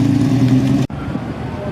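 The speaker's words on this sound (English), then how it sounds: "RT Charger rolls in." A Chrysler Valiant RT Charger rolls in at a Chrysler meet at Mile End, its engine a loud, steady low rumble that cuts off sharply partway through before lighter mechanical noise carries on.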